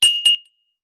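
Two quick spoon taps on a water-filled glass give bright ringing dings that fade fast, heard up close with no voices.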